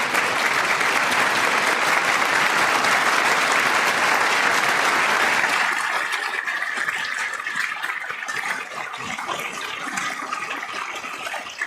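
A large audience at the State of the Union applauds and cheers loudly, a dense roar of clapping that stays full for several seconds and then thins into scattered applause.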